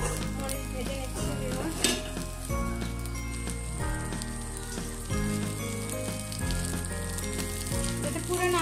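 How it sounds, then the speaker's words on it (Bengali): Garlic, onion and chili fry in mustard oil with a steady, close sizzle and occasional stirring, while background music plays underneath throughout. "তেলটার মধ্যে আমি এখন সবগুলো রসুন আর পেঁয়াজ মরিচ ভেজে নিচ্ছি।"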